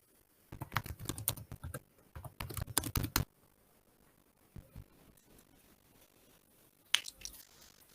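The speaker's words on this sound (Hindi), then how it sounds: "अब मैं लॉगिन पे क्लिक कर लेता हूँ।" Close computer keyboard typing and clicking while logging in to WordPress: two dense bursts of rapid keystrokes, a few softer taps, then a single sharp click near the end, with no talk.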